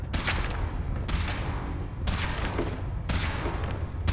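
A weapon fires during a power armor suit test in Fallout 4: four loud, evenly spaced shots about a second apart, each a sharp booming burst over a constant low rumble.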